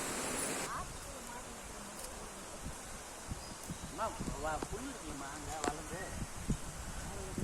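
River water flows steadily at the Cheyyar anicut dam in Thandarai, a constant broadband rush with a few faint bird chirps and small splashes on top.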